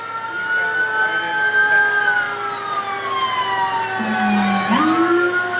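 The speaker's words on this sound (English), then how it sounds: "Evansville Airport Rescue 2 Stryker 1500 aircraft firefighting all-terrain 4x4 vehicle" Wailing siren on the Evansville Regional Airport Rescue 2 Stryker 1500, an all-terrain 4x4 aircraft firefighting vehicle, rolling in a street festival parade. The tone sweeps up and down steadily, loud and continuous, with no talk over it.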